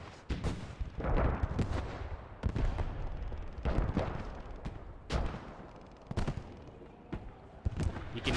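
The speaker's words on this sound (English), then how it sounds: "You can hear tanks exchanging. The Churchill and Firefly actually hitting shots on the Tigers." Tank cannon fire from Churchill and Firefly tanks against Tigers in the video game Post Scriptum, heard as repeated heavy booming shots with rumbling tails at irregular intervals, loud amid wider battlefield noise.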